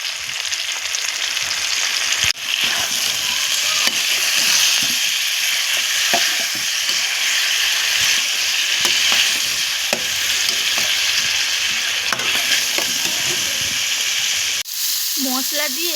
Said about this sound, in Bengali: মশলা দিয়ে একটু নেড়ে চেড়ে সামান্য জল দিয়ে দিলাম।